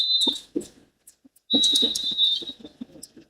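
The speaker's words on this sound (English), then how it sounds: "And there goes the referee's whistle signaling" A referee's whistle at a Nigerian women's premiership football match between Edo Queens and Naija Ratels sounds to end the first half: a short blast, then a longer sustained one, with commentary and crowd noise around it.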